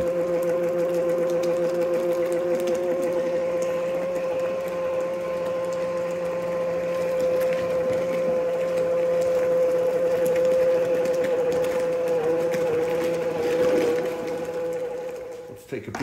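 A 12-volt bucket dredge for gold runs at a creek with a steady, whining motor hum and mechanical chatter, continuous for the full stretch, with someone talking over it.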